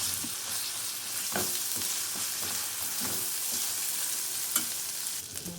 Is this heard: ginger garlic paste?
yes